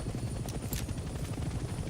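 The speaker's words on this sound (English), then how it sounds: "I feel like I still hear a helicopter over there" A helicopter in the Vietnam-era shooter Hell Let Loose Vietnam thumps with a steady rapid rotor pulse over jungle ambience, loud and continuous with faint distant gunfire mixed in.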